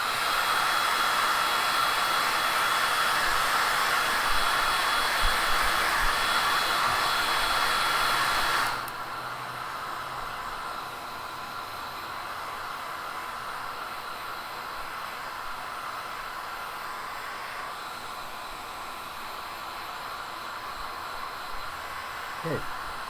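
A hair dryer blows hot air onto wet paint on a small carved wooden face, a loud steady whirring hiss that runs for several seconds, then drops to a lower, softer setting and keeps blowing steadily.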